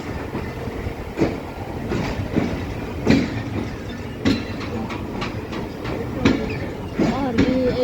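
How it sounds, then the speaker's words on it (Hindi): Hazara Express pulling out of Samasata Junction after a five-minute halt, a continuous rumble of rail cars with periodic wheel clicks over joints, moderately loud and steady throughout. "इस वजह से तकरीबन 5 मिनट का यहाँ पर स्टॉप लेने के बाद रवाना हो रही है 12 टाउन हज़ारा एक्सप्रेस समासट्टा से।"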